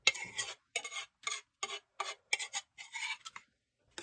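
Oil-coated pumpkin seeds being spread across a cast iron skillet, giving a series of short scraping, rasping strokes in bursts with brief pauses between, close and fairly quiet.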